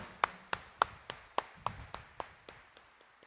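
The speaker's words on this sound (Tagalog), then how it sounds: "Kaya bigyan natin ng mas malakas na palakpak ang mahal na pong Jesus Nazareno." A church congregation claps for Jesus Nazareno at a shrine celebration, giving about a dozen sharp, evenly spaced claps in a steady rhythm that gradually soften, with no voices.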